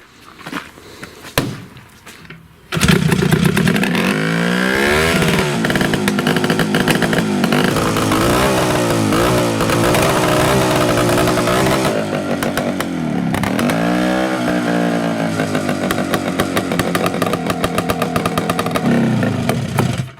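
A homemade dune buggy's engine runs loud and steady with one cylinder misfiring, giving a rough, uneven chugging after it fires up a few seconds in and keeps running to the end.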